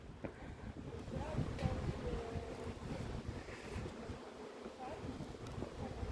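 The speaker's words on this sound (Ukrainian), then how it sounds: "Так, щось звіявся вітер." Gusty wind blows across an open mountain apiary, with buffeting microphone rumble and rushing noise at low level, and a person's voice faintly beneath.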